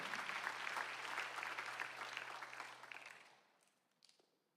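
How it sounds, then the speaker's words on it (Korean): A church congregation at a Sunday afternoon service applauds steadily for about three seconds, then the clapping fades out, leaving a few scattered claps. "박수 한번 해주세요"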